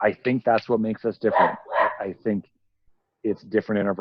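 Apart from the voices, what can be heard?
None of the usual background noises is heard.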